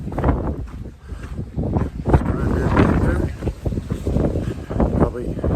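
Strong wind gusts of 40 to 50 miles per hour batter the microphone on a desert hiking trail, a loud roaring buffet that rises and falls continuously, with a voice speaking partly under it.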